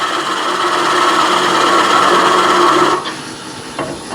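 A wood lathe spinning at 500 rpm while a gouge shaves a bowl blank, a loud steady scraping whir that drops abruptly near the end as the cut stops.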